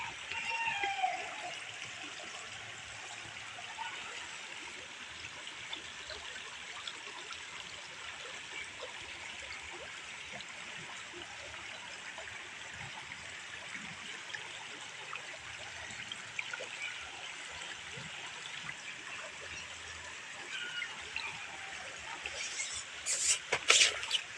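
A countryside stream flows with a steady, soft, even babble and trickle. A few louder splashy bits come near the end.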